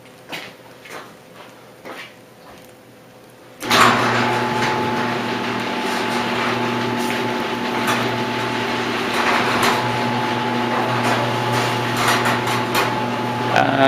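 A motorized garage door starting up after a few quiet taps, then a loud steady mechanical hum and rumble with rattling that runs continuously for about ten seconds, close by.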